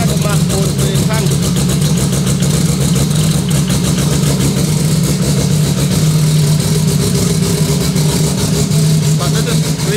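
Smooth-running car engine idling steadily, a close low hum with an even rhythm held throughout, while people talk in German over it.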